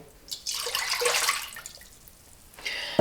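Half a litre of water pours and splashes into a container for about two seconds for a marinade, then trickles off, close by with no talking.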